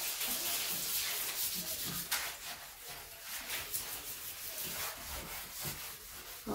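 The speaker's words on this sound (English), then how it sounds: "Now I'm going to start scrubbing." A sponge scrubs a bathtub coated with baking soda, giving steady close rubbing and swishing strokes in an irregular rhythm, with no talk over it.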